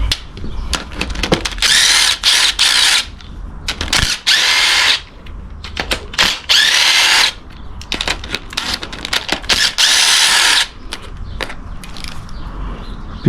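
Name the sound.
ratchet removing 10 mm valve cover bolts on Toyota engine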